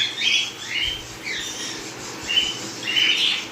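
A pair of pineapple conure parrots gives several harsh, nasal squawks in short bursts with brief gaps, fairly close and loud, over a quiet background with no talking.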